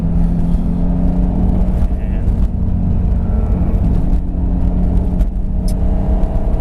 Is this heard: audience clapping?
no